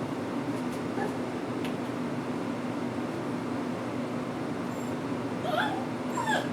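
Puppy giving faint high yips and whimpers over a steady noisy background hum, several short squeaky calls clustered toward the end.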